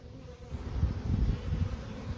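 Honey bees buzz steadily around a box in the grass during a wild colony removal from an ottoman. The low drone is fairly faint and swells a little, with no voices.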